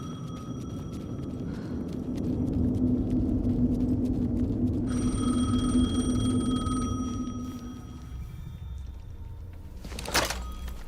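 A telephone rings in the horror video game Alan Wake 2, a faint electronic ring over a low ambient rumble, ending with a brief sharp click.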